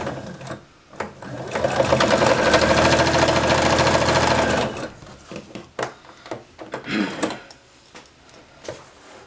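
Sewing machine running steadily for several seconds while stitching a patch onto denim, loud and close, then stopping, followed by quieter handling clicks and rustles.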